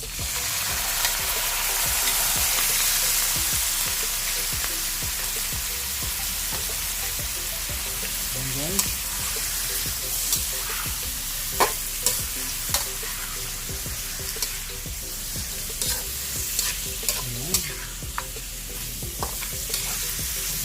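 Ingredients for spare ribs caldereta sautéing in a pan, a steady close sizzle with repeated scraping and clacking of a spatula stirring throughout, no voices.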